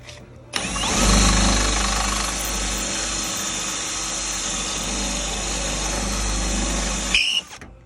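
A drill fitted with a 1/4 inch bit drills out a 1/4 inch pop rivet on a 1995 Cobra Mustang window motor, a steady, loud, close whine running for about seven seconds before stopping abruptly.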